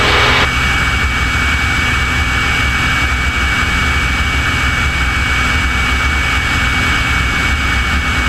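Steady, loud roar of an airplane engine at the Oshkosh air show, a continuous broadband drone with a low rumble, unbroken throughout and with no voices.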